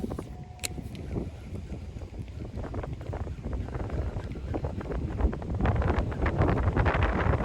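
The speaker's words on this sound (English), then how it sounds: "I don't think I'm gonna be able to fish it because of this wind." Wind gusts buffet the microphone beside a kayak on an inland lake in Michigan, a loud rumbling roar that grows stronger toward the end, with faint water movement beneath and no speech.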